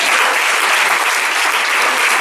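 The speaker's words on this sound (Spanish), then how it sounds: "Un aplauso al Señor" Loud, close congregational applause in a church service, a thick continuous roar of many hands clapping at full strength for a couple of seconds without voices.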